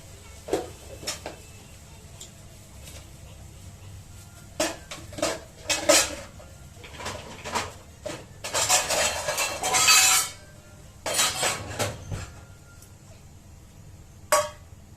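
A bowl is taken out and handled in a home kitchen before eggs are beaten for an omelette: scattered close clinks and knocks of crockery and cutlery, with a longer rattling burst midway and a sharp clink near the end, no talk.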